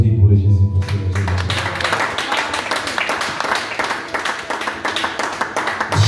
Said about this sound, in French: Applaudis pour le Jésus, pour ce Jésus.